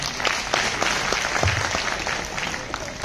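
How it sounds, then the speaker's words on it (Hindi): An audience claps loudly for a guest being called up onto a stage, a continuous burst of many hands close by with a few sharper individual claps standing out. "एक बार जोरदार ताली सर के लिए।"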